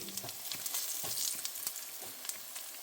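Curry leaves and green chillies sizzle and crackle in hot oil for a garlic pickle, a bright frying hiss dotted with sharp pops, close and alone without talk.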